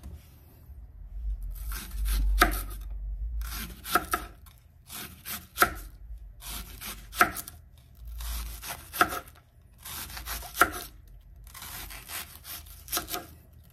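Onion being chopped with a knife on a board, heard as seven separate bursts of quick rhythmic cuts with short pauses between them, close and crisp.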